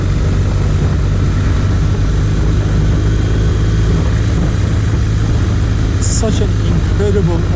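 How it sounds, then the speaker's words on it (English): BMW R 1250 RT motorcycle engine under way, a steady low drone with a constant hum mixed with wind rush. A voice talks over it. "Such an incredible engine,"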